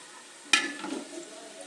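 Sudden scrape of a spoon stirring onions frying in a pan, followed by soft sizzling that fades to a low hiss, close and brief.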